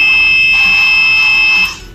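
Steady, piercing electronic buzzer tone from the alarm of a soil moisture watering system with a water pump, sounding continuously and loudly for most of the clip before cutting off near the end.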